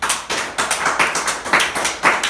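A church congregation claps in quick, regular rhythm, a crisp burst of steady applause heard up close with no talking over it.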